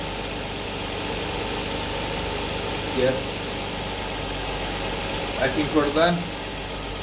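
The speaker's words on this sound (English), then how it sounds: "So it's very cool, the idling." A Lexus IS200 engine idles at about 1500 RPM during an oil change, giving a steady, even hum throughout while a person briefly talks over it.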